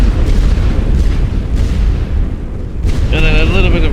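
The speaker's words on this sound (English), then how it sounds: "Gonna perform mass artillery with a bit of gassage again. See what we can do. Gonna artillery all of it." An artillery barrage with gas shells in a war video game: loud, continuous rumbling booms and blasts close up, with a brief voice near the end.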